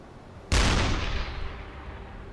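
A U-boat deck gun's shell slams into a ship's hull in a single sharp, heavy blast. A rumbling tail fades over about two seconds above choppy sea noise.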